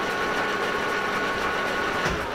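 Old manual workshop machine turning, a continuous mechanical whirr with light rhythmic clatter, steady and fairly close for a couple of seconds with no talking.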